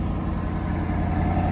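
A C8 Corvette fitted with an aftermarket air filter runs at a steady idle, its deep engine hum loud and close with no break.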